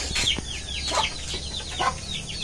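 Chickens cluck close by in a yard, a few quick sharp clucks repeating over a steady outdoor background.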